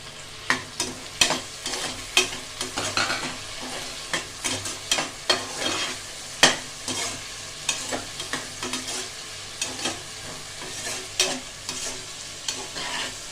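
Onions, tomato, coriander and curry leaves frying in a pan for one-pot sambar, with a steady sizzle broken by frequent sharp scraping stir strokes in an irregular rhythm, close and moderately loud, with no voices.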